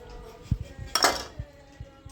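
Spoons clinking against a dish while mixing a Gujarati potato curry with tomato, lemon and salt: a few soft taps, then one bright close scrape-clink, with no voices.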